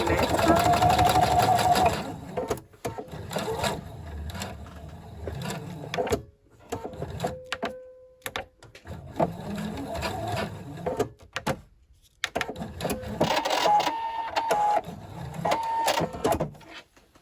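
A sewing machine runs a 5 mm holding seam along a braided fabric headband in loud, steady bursts that stop and restart. Speech is heard between the stitching runs.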